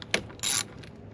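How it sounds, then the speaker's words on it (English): A socket wrench ratchet loosens 8 mm bolts during serpentine belt replacement on a Nissan Frontier, Xterra or Pathfinder. Two crisp, close ratcheting bursts are heard, a short click followed by a longer, louder whirring clatter, with no talk. "8 millimeter to unloosen these"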